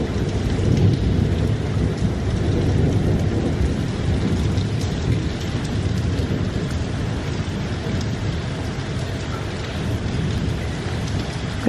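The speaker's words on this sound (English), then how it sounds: "We've had thunder and lightning all night and it's forecast to continue." Heavy rain pours during a night-long thunderstorm along the Camino Francés near Belorado, a dense, steady hiss with deep low rumbles of thunder rolling underneath throughout, with no voices.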